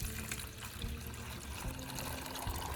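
Liquid from a car battery pours out in a steady close-up stream, a continuous trickling splash running the whole time with no voices.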